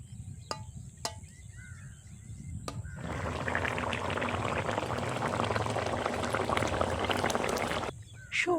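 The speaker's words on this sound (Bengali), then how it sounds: "ঝোল ফুটে গেছে" Fish curry gravy with mustard and poppy seed boiling in a pan, a dense bubbling rush that starts after a few sharp clicks and taps and runs steadily for several seconds before stopping abruptly, close and loud, with no talking.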